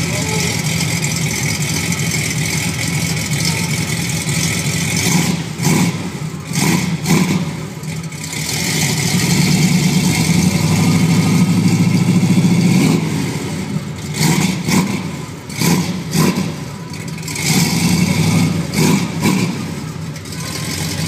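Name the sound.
Chevelle car engine revving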